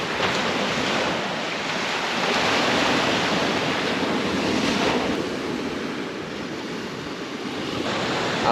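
Ocean surf rolls onto the beach at Punta Aderci, a broad continuous wash of waves with wind buffeting the microphone, steady and fairly loud throughout.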